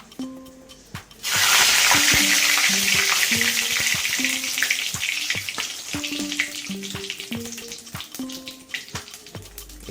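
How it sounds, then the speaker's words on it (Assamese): Two bay leaves hit hot oil in a pan for an Assamese ul kosu and chicken dish: a sudden loud, steady sizzle starts after a second of quiet and crackles on, with faint clinks of utensils. "তেলটো গৰম হৈ গ'ল। মই এতিয়া তেজপাত দুটা দি দিম।"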